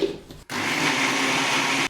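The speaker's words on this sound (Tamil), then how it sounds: "இப்போ நம்ம மிக்சியில் போட்டு கொஞ்சமாக இருக்கிறதுனால மிக்சியில் அரைச்சி போகிறேன்" Mixer grinder running steadily at a loud, even pitch as it grinds soaked dosa batter, after a brief quiet pause, continuous whirring filling most of the two seconds.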